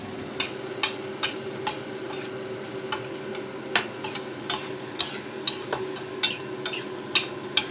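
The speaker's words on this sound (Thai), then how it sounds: "เดี๋ยวผัดให้น้ำงวดแห้งสักหน่อยครับ" Squid stir-frying in its own black ink in a pan: a steady sizzle under a run of sharp, regular spatula scrapes and taps against the pan, close and alone.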